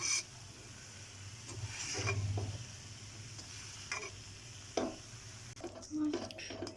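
Chicken burger filling with grated onion and finely chopped cabbage being mixed by hand in a bowl, soft irregular squelching and scraping bursts, close and fairly quiet, with brief pauses.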